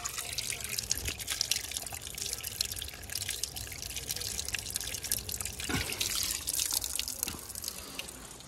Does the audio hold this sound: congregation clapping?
no